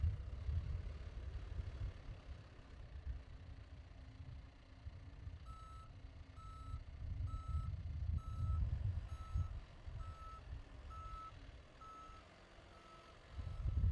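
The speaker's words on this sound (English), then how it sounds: "The backup alarm alerts bystanders that your machine is changing directions." An L-Series backhoe loader's backup alarm beeps while reversing, a regular series of about a dozen evenly spaced tonal beeps over a low diesel engine rumble, moderately close.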